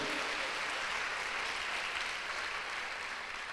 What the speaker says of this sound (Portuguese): Dê uma salva de palmas e diga glória a Deus.